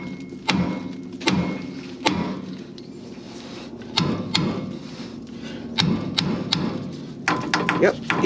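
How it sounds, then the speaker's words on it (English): Heavy metallic mash hammer blows on a tie rod during a 70 Series Land Cruiser swivel hub rebuild ring out one at a time, sharp and loud, about eight strikes spread unevenly with a low workshop hum between. "give it a big hit here with a mash hammer"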